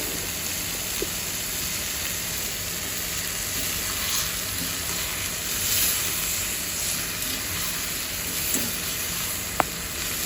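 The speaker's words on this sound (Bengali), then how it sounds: "এখন আমি মশলা দিয়ে ভালো করে এটা কষাবো।" Fish frying in a pan with turmeric, chilli and coriander, a steady broad sizzle with a constant hiss throughout and a couple of faint clicks from stirring, with no talk.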